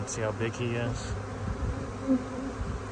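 Bees buzzing around a hive being wrangled, a soft, steady hum heard close under a voice speaking.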